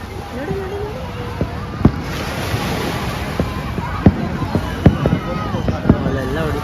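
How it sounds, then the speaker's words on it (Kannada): New Year fireworks at Marine Drive, Mumbai, heard as scattered distant pops and bangs over a constant outdoor wash of wind and sea, with people talking nearby. "ನೀನು ಪಟಾಕಿ ನೋಡು ಪಟಾಕಿ ನೋಡು"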